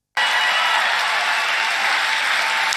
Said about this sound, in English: these crowds cheering that Trump didn't fail a test for serious advanced dementia, that's now an applause line.